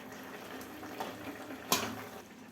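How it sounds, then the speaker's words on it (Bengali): Bengali shukto curry simmers in a pot after a ground spice mix is stirred in, with a steady soft bubbling and a brief sharper pop partway through. "গুঁড়ো মশলাটি দেওয়ার পর আমি একটু ফুটিয়ে নিচ্ছি।"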